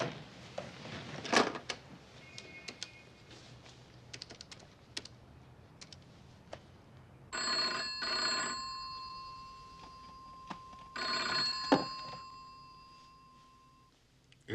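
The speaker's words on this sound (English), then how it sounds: "The phone only rang once." A telephone rings in two long electronic bursts separated by a pause, after earlier clicking and tapping sounds in a quiet room at night.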